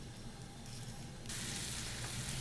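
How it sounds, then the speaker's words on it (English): Shrimp cooking in spring onion pesto in a sauté pan, giving a steady close sizzle that jumps to a louder, brighter hiss partway through. "in this saute pan I'm cooking a little shrimp in my spring onion pesto"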